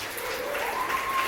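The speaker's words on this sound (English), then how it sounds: "Big round of applause." Audience applause at a business award presentation, a steady wash of clapping throughout the short moment with a faint tone running underneath.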